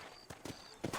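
Horse hooves clop in Red Dead Redemption, three quick, faint hoofbeats over a low background hum.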